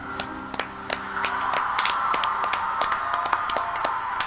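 A small group of people clapping along to the Hamilton musical, sharp rhythmic hand claps at a steady beat over the sustained music playing close by.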